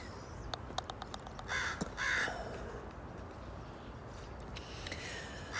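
Crows caw outdoors in a few separate harsh calls, the clearest two arriving close together, set at a moderate distance over a steady hiss of background noise with no talking.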